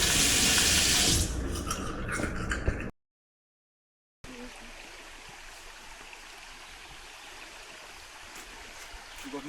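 The Døndalen waterfall makes a steady, loud rush of water up close, broken by a brief cut to silence before the roar resumes.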